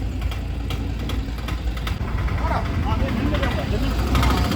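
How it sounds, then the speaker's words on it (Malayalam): A passenger boat engine rumbles steadily as the boat leaves the Kumarakom boat jetty, a continuous low drone heard at moderate distance, with people talking over it throughout. "കുമരകം ബോട്ട് ജെട്ടിയിൽ നിന്നും ഒരു ബോട്ട് പോയിക്കൊണ്ടിരിക്കുന്നത്"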